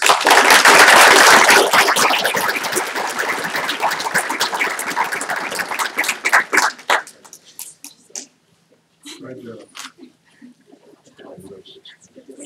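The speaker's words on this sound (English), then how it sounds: "Let's give them all a big round of applause" A school event audience gives a loud burst of applause for students, thick and sustained at first. It fades over several seconds into scattered claps and trailing noise.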